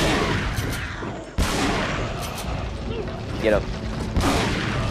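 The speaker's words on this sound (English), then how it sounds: "the shotgun's got no range" A shotgun fires in Resident Evil 4, with two sharp, loud blasts among constant game noise, and a voice speaks briefly.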